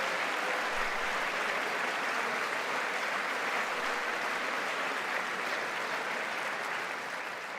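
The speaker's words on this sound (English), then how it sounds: "Democrats applauded that." A large audience applauds steadily through a State of the Union address in 2020, dense sustained clapping filling the hall at an even level from start to finish with no break.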